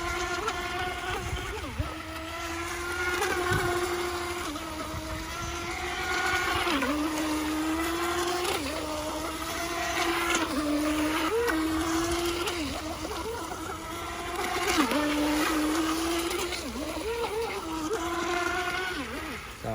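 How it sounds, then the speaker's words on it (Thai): A radio-controlled mini boat runs across the water with a steady high-pitched electric motor whine, rising and falling in pitch as it turns and speeds up, close and continuous throughout. "เรือมินิโบ๊ทนะครับ"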